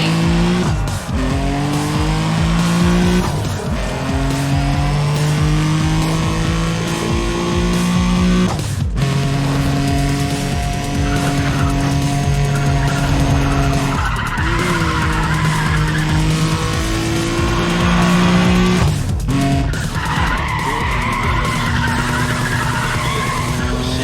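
Race cars in the Need for Speed ProStreet video game roar with a loud, continuous engine drone and repeated long tire squeals and skids, shifting in pitch as they corner.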